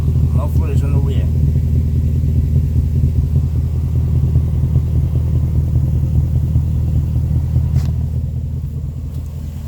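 A 2016 Range Rover Sport supercharged V8 fitted with an upgraded exhaust and aftermarket rear mufflers idles with a steady, smooth low rumble, close and continuous, while someone talks over it.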